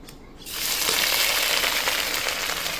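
Ginger sizzling in hot mustard oil in a pan, a steady close frying hiss that swells in after a brief quiet start and holds loud to the end.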